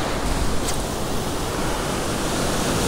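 A steady, broad roar of ocean surf on a beach during surf fishing, loud and continuous with no distinct breaks.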